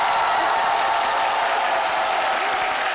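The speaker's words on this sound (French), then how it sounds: "que je vous demande d'applaudir" A television studio audience at the French talk show C'MIDI applauds. The clapping is dense and loud, filling the whole stretch as one steady wash of many hands with no pauses.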